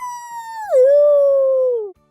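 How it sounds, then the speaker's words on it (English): A single drawn-out howl, steady at first, dipping lower, then sliding down and trailing off, with a clean tone and no other sounds. "He heard a wolf go,"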